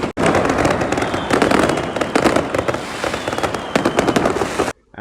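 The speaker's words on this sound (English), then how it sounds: "I did get some footage on my phone of some of the fireworks carnage that took place." Dense, relentless barrage of fireworks and firecrackers bursting during New Year celebrations, loud and continuous with overlapping pops and bangs for nearly five seconds before cutting out abruptly.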